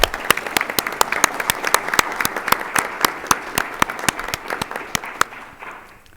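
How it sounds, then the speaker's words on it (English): Audience applause at a high school board of education meeting, a steady patter of hand claps with sharp individual claps standing out, sustained for several seconds before tapering off near the end. "So let's give him a round of applause."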